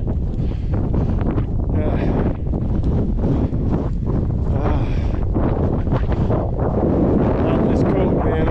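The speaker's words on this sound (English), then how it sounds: "Wind is really biting right now." Cold, biting wind gusts roar continuously past the microphone at a rocky crevice, a loud, buffeting rush that swells and falls without pause.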